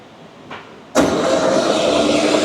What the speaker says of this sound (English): Would you care to come over here and crank this thing a little?